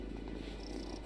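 A cat purrs steadily and continuously in the video game Wylde Flowers, a soft, low rumbling purr heard close and alone, without any talk.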